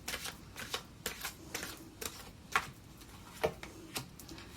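Tarot cards shuffled and slapped down during a love reading, a quick run of soft papery riffles and sharp flicks at an uneven pace, close and fairly quiet with no talk.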